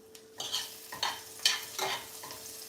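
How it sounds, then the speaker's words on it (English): A utensil stirs mushrooms in a pan with coconut and curry, making several soft scraping strokes over a faint sizzle, close by and unhurried. "let's stir the mushrooms"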